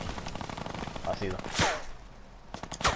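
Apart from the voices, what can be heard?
enemy gunfire in a video game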